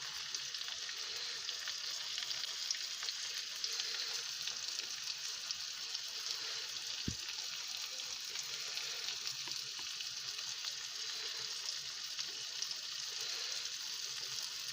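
Turmeric frying in hot oil for a chicken liver curry, a steady close sizzle running unbroken throughout, with one brief soft knock partway through and no talking.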